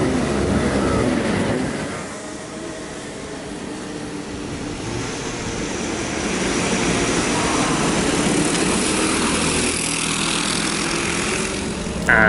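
An ADX Prokart kart engine idles high in the pits at Rye House, making a steady, loud broadband drone with a slight dip and swell partway through and a brief burst at the very end.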